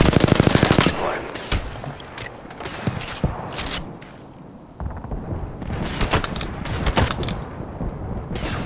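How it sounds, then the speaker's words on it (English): In Apex Legends, a rapid burst of automatic gunfire opens the scene, followed by scattered single shots and further volleys, loud and close, with game sounds in between. "They're shooting at me."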